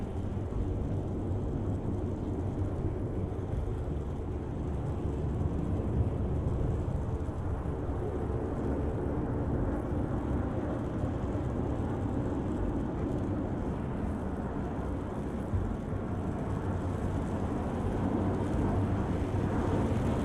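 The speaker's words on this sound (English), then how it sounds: "F-35s on departure." F-35 jets departing in the naval combat game Sea Power, a continuous low, steady engine rumble with no distinct peaks and no voices.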